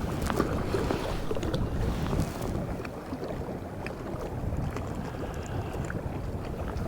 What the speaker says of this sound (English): Wind's about 10 to 15 right into my face